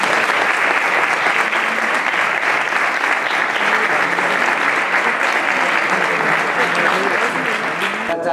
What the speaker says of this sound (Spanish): pido un fuerte aplauso para doña Josefa Carrillo Tamo.